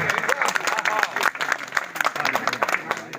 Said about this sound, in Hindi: जोरदार तालियां एक बार। जितने लोग बैठे हैं तालियों की आवाज ये ब्राह्मण समाज की ताली है।